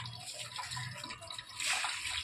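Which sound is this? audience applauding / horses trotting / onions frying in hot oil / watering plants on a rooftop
watering plants on a rooftop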